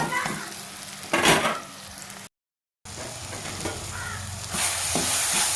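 Banana cooks in a pan for rava unda, a steady close sizzle with stirring and mashing scrapes that breaks for a moment of silence and then carries on louder.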